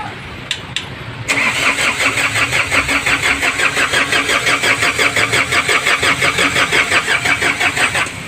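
A newly built diesel engine cranks briefly, then catches and settles into a loud, steady, rhythmic chugging idle close by, with no talk over it.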